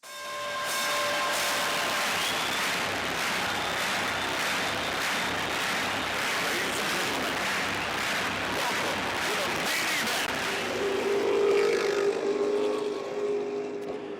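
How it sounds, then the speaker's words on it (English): A dense, steady roar of many race car engines starting together at Columbus Motor Speedway, loud and sustained throughout, with a rising rev near the end. "Drivers, start your engines."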